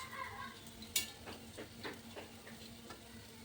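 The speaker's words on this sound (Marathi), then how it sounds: "बघू शकता तुम्ही किती अंडे किती छान प्रकारे किसले जात आहेत" Boiled eggs rubbed over a kitchen grater of the kind used for coconut, a series of soft rhythmic scraping strokes heard up close and quietly, with one sharper knock near the start.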